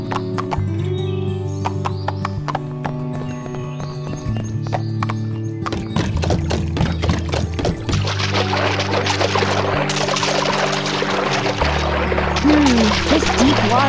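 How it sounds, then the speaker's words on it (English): Horse hooves splashing and sloshing through deep water over a looping synthesized game tune, with a horse whinny near the end, in the PlayStation 2 game Barbie Horse Adventures: Wild Horse Rescue. "This deep water is making it hard for our horse to move fast."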